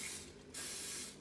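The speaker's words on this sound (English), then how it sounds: "first up, we're going to spray our egg containers." Cooking spray hisses onto egg containers in two quick bursts separated by a short gap, close and fairly quiet.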